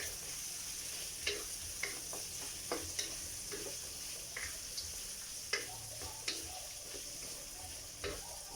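Chili goes into a frying pan for a humba dish, giving a soft, steady sizzle with faint stirring clicks and taps spread across it, fairly quiet and without talk.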